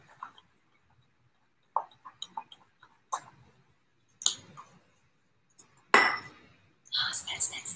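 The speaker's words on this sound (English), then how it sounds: "And then you give it a nice stir." A spoon stirs an essential oil cleaning mixture with bergamot drops in a jar, giving scattered close clinks and scrapes of metal on glass separated by short quiet gaps.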